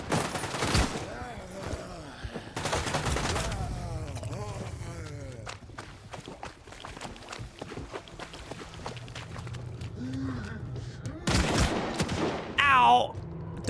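Gunfire in the video game S.T.A.L.K.E.R. 2, sharp bursts of shots near the start, around two to three seconds and again near eleven to thirteen seconds, with someone talking over the gameplay between them.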